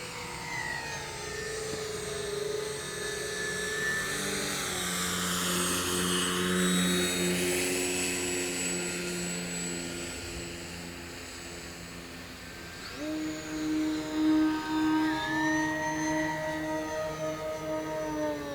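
An Avios Twin Otter 1600mm scale twin-engine RC float plane flies past, its twin electric propellers whining and shifting pitch as it swells closer around the middle, then fades and returns with a buzzing tone.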